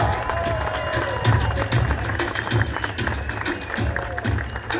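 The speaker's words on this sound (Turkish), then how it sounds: "Büyük alkışlar Samet Bulut'a geliyor" Crowd applauding a cyclist at a podium ceremony, a steady wash of clapping and cheering held at even loudness throughout, with distant voices and background music mixed in.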